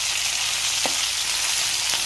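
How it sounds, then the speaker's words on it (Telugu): Curry leaves sizzle in hot oil for a spicy chicken curry, a steady close frying hiss throughout with a couple of faint clicks, no voices. "ఇప్పుడు కొద్దిసేపు వేయించిన తర్వాత ఇలాగ వేగనివ్వాలి కొద్దిసేపు"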